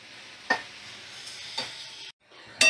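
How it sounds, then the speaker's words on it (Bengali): Bottle gourd fried on medium flame with spices, turmeric and salt gives a steady soft sizzle, broken by a few louder scrapes of stirring and a brief pause near the end. "এবার মিডিয়াম ফ্লেমে রেখে আমি ভালো করে মশলা আর নুন হলুদ দিয়ে লাউটাকে কষিয়ে নেব"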